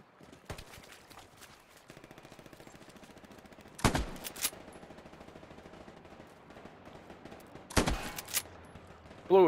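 Two loud, sharp shotgun blasts roughly four seconds apart in the World War II shooter Hell Let Loose, set against distant rattling automatic gunfire and scattered shots.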